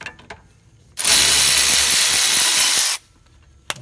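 A power tool with a 14 mm socket removes a bolt from the rear brake of a 2001–2005 Toyota RAV4: one loud, hissing, whirring burst lasting about two seconds, then quiet.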